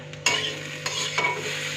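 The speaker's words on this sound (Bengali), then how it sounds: "আর এদিকে আমার পেঁয়াজ কলি আলুটাও ভাজা হয়ে গেছে।" Onion stalks and potatoes being stir-fried, a close sizzle broken by a few sharp scrapes and knocks of a spatula against the pan, short and busy, with no talking.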